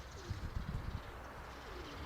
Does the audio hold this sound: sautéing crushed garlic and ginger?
no